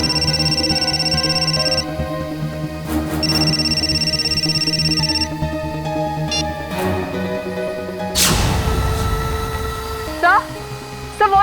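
A telephone rings loudly in a tense indoor scene, its electronic ringtone repeating in steady bursts over a dense mix of music and other sounds, with a sharp crash partway through.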